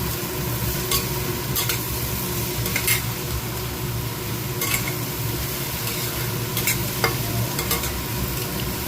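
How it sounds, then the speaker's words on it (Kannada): Ridge gourd frying in a pan, a constant close sizzle with spatula stirring and a few sharp scrapes and taps against the pan. "ಹೀರೆಕಾಯಿನೂ ಹಾಕಿ ಚೆನ್ನಾಗಿ ಫ್ರೈ ಮಾಡಬೇಕು."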